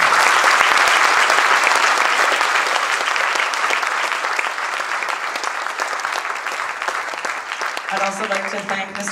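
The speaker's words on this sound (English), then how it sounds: "so please give them a round of applause as well" Sustained, loud applause from a crowd at a closing ceremony, dense clapping that tapers slightly near the end as a voice begins to come in.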